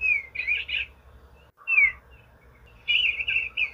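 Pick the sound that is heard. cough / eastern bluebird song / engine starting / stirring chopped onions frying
eastern bluebird song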